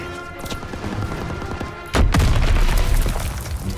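A placed demolition charge detonates in the Call of Duty WW2 shooter, a loud booming blast that erupts abruptly midway through steady battle noise and gunfire rumble, then rolls on with heavy low thuds.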